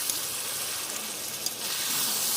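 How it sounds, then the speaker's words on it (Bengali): Meat frying in a pan makes a soft, continuous sizzle with faint stirring scrapes, even in level throughout and heard alone. "এখন মাংসটা ভাজা হোক।"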